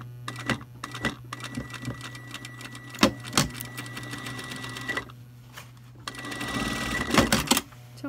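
A sewing machine with a thick needle runs in bursts through heavy denim jeans while taking in the waistband, a loud close mechanical clatter over a steady motor hum, with several sharp knocks and a pause before it speeds up again.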